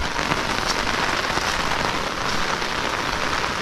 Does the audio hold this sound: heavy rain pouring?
yes